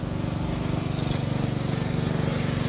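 Close, steady rhythmic putter of an antique gas engine at a tractor show, firing in an even beat at moderate loudness with no voices over it.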